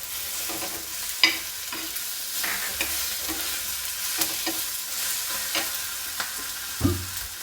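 Cumin seeds frying in a pan of oil while making a Kolhapuri thecha, a steady crackling sizzle with a few sharp pops and stirring scrapes, close up and with no voices.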